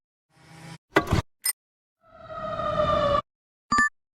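A fire truck siren rises in a clear wailing tone for about a second. It is framed by a few short bumps and clicks and ends with a quick bright chime.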